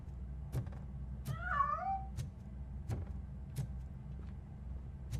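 A cat meows in the RoboCop: Rogue City video game, one clear wavering meow rising and falling, set against a low game ambience punctuated by regular sharp ticks.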